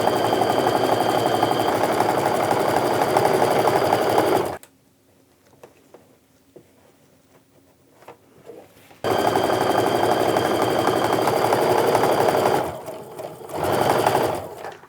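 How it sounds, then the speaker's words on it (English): A sewing machine stitches quilt pieces together for a fat-quarter modern Christmas quilt, running in two steady, buzzing bursts separated by a quiet pause, then a short final spurt. "I'm just going to sew these together to get that set of 3 going"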